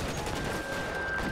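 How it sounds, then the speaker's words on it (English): Shotgun blasts in the video game L.A. Noire, a dense run of loud, close gunfire reports packed over a busy game soundscape, with no clear gaps between shots. "Shotgun's fucking loud, bro."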